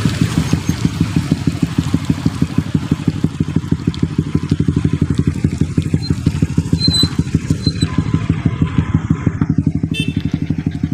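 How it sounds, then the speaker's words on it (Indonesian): A loud, close motorcycle engine runs with a rapid steady pulsing thump on a muddy mountain road, a line of bikes pressing past for about ten seconds, with faint brief sounds above. "Rombongan roda 2 ini rupanya"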